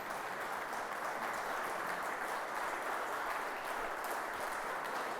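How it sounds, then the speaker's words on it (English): A crowd at a business conference applauds steadily, a dense wash of clapping that holds at an even level throughout. "let's give them a quick round of applause"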